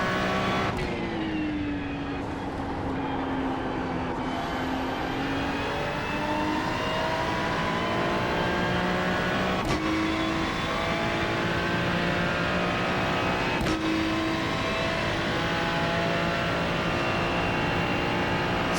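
A race car lapping Monza, its engine droning loud and steady from onboard, pitch sliding down and climbing as it shifts through gears, with sharp gearchange breaks at intervals and no talk.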